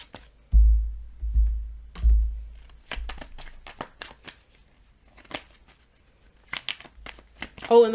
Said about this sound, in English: Let's just go on ahead and get to shuffling.